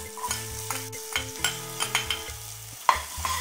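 Onions frying with chilies, asafoetida and curry leaves, stirred in a pan, with a steady sizzle and rhythmic scraping strokes and clinks of a spoon against the pan.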